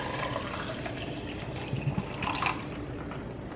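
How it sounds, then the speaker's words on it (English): Water pours from a small blender bottle into a cup, a steady, close liquid stream and gurgle over a soft background hiss. No one speaks. "shake it up, and then pour it into my cup."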